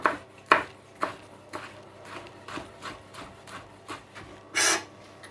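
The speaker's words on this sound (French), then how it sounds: "Alors là, je coupe l'algue." A knife slicing through a roll of seaweed for a grilled vegetable barbecue, heard as a series of short dry rasping cuts at a steady rhythm, close and fairly quiet, ending in one longer, louder scrape.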